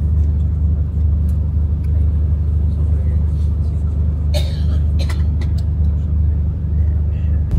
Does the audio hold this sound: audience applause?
no